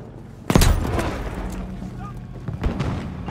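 A grenade blows up with a sharp, close, booming blast in Battlefield V. Rumbling debris and more distant gunfire follow, and a second thud comes shortly after, with voices in the background.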